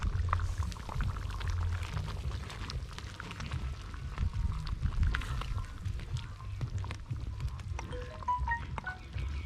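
Ketchup is squeezed over liver and green pepper sizzling in a pan, a close, continuous frying hiss with wet bubbling and scattered crackles, no voices.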